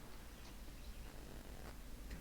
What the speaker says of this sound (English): And now he is on my lap purring